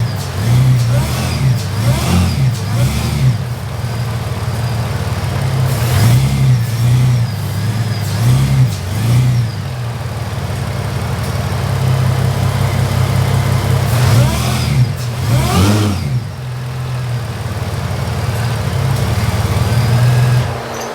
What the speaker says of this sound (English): Drop the car down, power brake it, and see how much the motor moves.